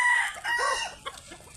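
Chickens cluck and crow close by, with a rooster-like call rising over a busy farmyard background.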